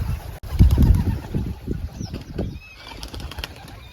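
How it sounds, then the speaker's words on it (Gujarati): Pigeons burst into flight with a close flurry of flapping wings, the beating loudest early and then thinning out, with faint bird calls outdoors. "જો મિત્રો દઈ કબૂતર ઉડી ગયા છે"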